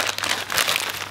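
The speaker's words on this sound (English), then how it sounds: "I got this gift. It's in a bakwa plastic bag." A plastic gift bag crinkles and rustles steadily up close for about a second, with a dense crackling texture and no voices.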